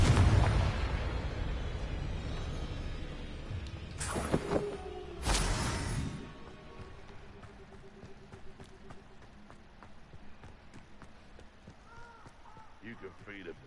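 Confringo spells blast in a wizard video game: two loud, broad bursts in quick succession, then quieter game ambience with scattered clicks, while a player calls out spell names.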